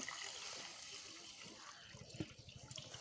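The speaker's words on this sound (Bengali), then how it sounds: "ভালো করে ধুয়ে পরিষ্কার করে নেব, জলটা ঝরিয়ে নেব।" Rice being washed by hand in water, quiet sloshing and trickling with a few soft splashes near the end.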